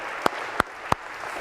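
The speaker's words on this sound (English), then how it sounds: "A round of applause, I suppose," Three sharp, evenly spaced claps in a lecture hall stand out over a faint continuous background of audience applause.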